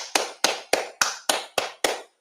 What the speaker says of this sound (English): We got to clap it up, man.